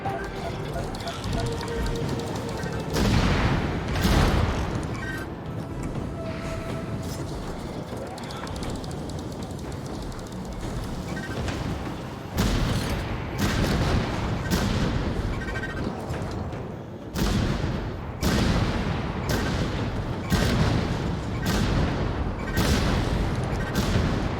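Missile explosions and gunfire in the mech combat game Vox Machinae: repeated heavy booms and bursts of fire, loud and close, arriving in clusters over a steady rumbling background, with people talking in between.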